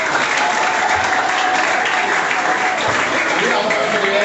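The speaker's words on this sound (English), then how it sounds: "Clap for him once again." Audience applause breaks out after a school debate speech, Ugwu Oshiri against St. Michael's College Oshiri, a dense steady roar of many hands clapping close by that holds at full strength throughout.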